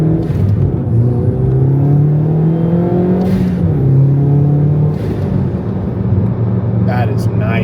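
Modified Monster Mini car engine revving up under acceleration, a loud steady drone rising in pitch, dipping at a shift and climbing again, heard from inside the car with a voice briefly over it.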